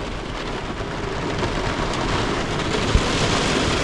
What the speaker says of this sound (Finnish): Kylläpä se alkas Kuopiossa sataa.